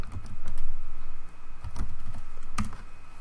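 Close, steady tapping on a computer keyboard, a run of quick light keystrokes with brief pauses and a few harder key presses, no voices.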